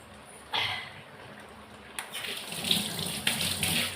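Green chillies, a tomato and curry leaves are rinsed under a running kitchen tap, the water splashing and changing tone as hands move the vegetables through the stream, close and clear, with no voices.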